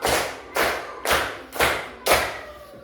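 Sharp, evenly spaced claps in a classroom counting clap game, five strong strikes about half a second apart, each with a short ringing decay in the room, close and loud with no talking.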